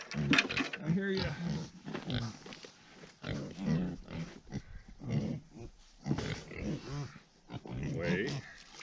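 Pigs on a farm grunt and squeal in loud, close bursts at feeding time, with a person's voice mixed in among the animal noises.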